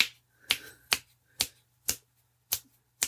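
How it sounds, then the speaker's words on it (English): Finger snaps, six sharp clicks spaced about half a second apart, fairly loud and close with a faint steady hum underneath and no talking. "apparently I can't snap my fingers quick enough"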